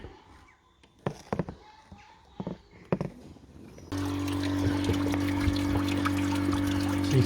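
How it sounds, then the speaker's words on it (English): Coolant running out of the bottom hose of a Ford Mondeo Mk4 1.8 TDCi, first a few sparse close drips and splashes, then a steady continuous trickle and pour over a low background hum. "So you can see the water's running out the bottom hose down there."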